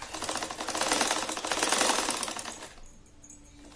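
A sewing machine stitches a saree, a fast steady run of needle clatter for about three seconds that stops abruptly, leaving a quiet hum.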